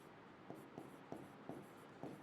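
Pen or marker strokes during a biology lecture, faint rhythmic scratches repeating about every half second, quiet and close with no talking over them.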